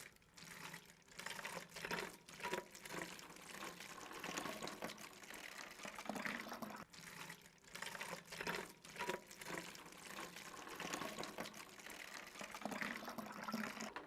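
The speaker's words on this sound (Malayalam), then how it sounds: "കുപ്പിയിലേക്ക് ഞാൻ ഈ മഷി ചേർത്ത വെള്ളത്തെ ഇതിലേക്ക് ഒഴിക്കുകയാണ്." Ink-coloured water poured into a bottle for a school physics demonstration, a quiet continuous trickle and gurgle of filling liquid with small splashy surges over about fourteen seconds, no talking.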